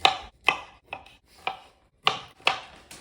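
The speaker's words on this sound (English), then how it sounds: "We're gonna go ahead and cut the stems off because we just want these bits as like the crumbles." A knife chops through cauliflower stems on a cutting board, six crisp, evenly spaced strokes up close with short silences between.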